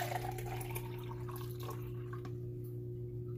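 Microwaved Simply Lemonade poured from a container into a Starbucks cup, a soft, steady trickle of liquid for about two seconds over a constant low electrical hum, then quieter.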